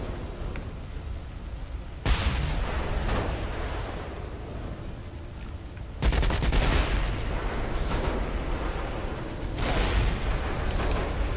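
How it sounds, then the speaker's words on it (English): Repeated booming explosions burst out in the video game Saints Row IV, each loud blast followed by a rumbling roar that lingers before the next. "I don't think these explosions are strong enough to kill me."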